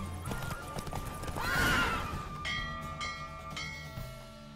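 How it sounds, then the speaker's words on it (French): Horse hooves clip-clopping at a gallop in The Witcher 3, with a whinny and jingling tack in a busy game soundscape, close and moderately loud. "Mon cheval a fait une belle course."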